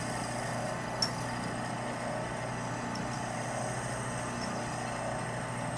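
A wood lathe spins a tobacco pipe blank as the tool plunges in, giving a steady, fairly quiet motor drone with one faint click near the start.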